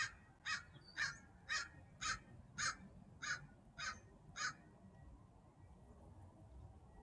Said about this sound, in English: if it's just a crow just calling up here